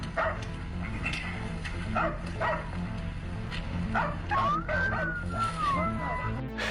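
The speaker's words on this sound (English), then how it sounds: "their dogs started barking aggressively at something near the wooded area" Hunting dogs bark and yip in scattered bursts out in the woods near a wooded area, somewhat distant, under music with a rising whine.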